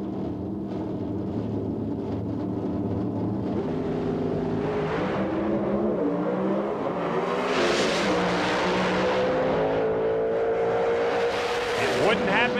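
Pro Stock drag racing cars, Warren Johnson against a Coughlin, roar continuously at a 1999 drag race final, loud engine noise with rising pitch sweeps as they accelerate, with commentary voices mixed in.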